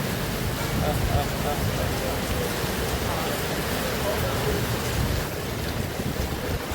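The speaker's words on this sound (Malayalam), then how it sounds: "പ്രത്യേക നല്ല മഴ അടിപൊളി മഴ കേട്ടോ നോക്കിയാട്ടെ എന്താ മഴ" Steady, dense rain roaring continuously, a broad wash of noise with a low rumble underneath, close and loud throughout.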